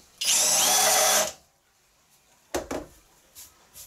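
A power drill countersinks the top of an 8.5mm hole drilled into metal during a shed build of a tube notcher. One loud, close whirring burst lasts about a second, followed by a few short clunks.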